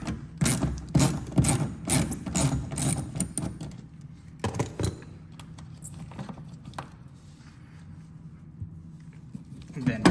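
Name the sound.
ratchet with 10mm socket removing Lexus mirror bolt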